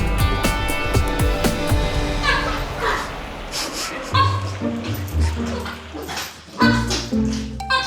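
Several dogs bark and yip loudly and continuously at a veterinary practice in Richmond, with overlapping barks and whimpers from nearby animals and some people talking in the background.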